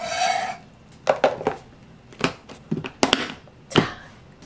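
A knife cuts through half an onion on a board while making Korean water kimchi with stonecrop: a handful of sharp, close chopping strikes at an uneven pace, with quiet gaps between and no talking.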